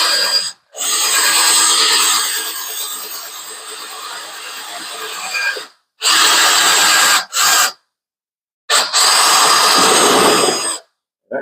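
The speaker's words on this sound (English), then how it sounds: "Drill the last rivet out, and then this old motor should fall out" A power drill bores out an old rivet holding a motor in place, whining loud and close in several bursts with short pauses between them, the last runs choppy and stopping abruptly.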